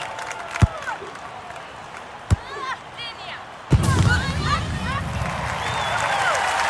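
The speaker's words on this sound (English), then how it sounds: "Well, as you can hear, the crowd..." Crowd cheering in the London 2012 Olympic video game: a few sharp thumps over quiet murmur, then a loud, sustained roar of cheers and applause with whistle-like calls swells up and holds to the end.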